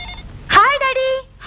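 A telephone sounds in a home with short electronic tones, one burst at the start and another at the very end, while a person talks loudly in between.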